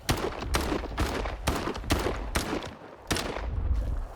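A shotgun in STALKER 2 firing regular shells at a mutant: about eight loud, booming blasts spaced roughly half a second apart, each with a short rumbling tail.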